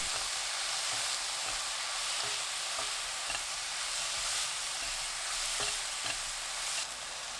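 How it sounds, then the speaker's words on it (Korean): Fish cake stir-frying in a pan with seasoning sauce for a chive side dish, a steady close sizzle with scraping stirs and soft clacks throughout, no voices. "어묵 넣고 1분 볶아주세요. 양념 붓고 30초 볶습니다."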